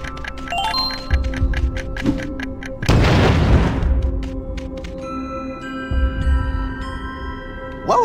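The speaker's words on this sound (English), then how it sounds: "Was that another cave-in?" Deep rumbling cave-in crash from the Molekin Mine level of Skylanders: Spyro's Adventure, a loud broadband burst lasting about a second over tinkling game music, with a softer low thud afterward.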